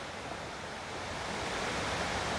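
Water pours over the step dam at Dunmore Reservoir in Pennsylvania, making a steady, full rushing roar that stays even throughout.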